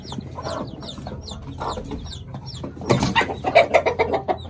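An Aseel hen clucks repeatedly, starting with soft scattered clucks and then breaking into a louder, rapid run of agitated clucking close by.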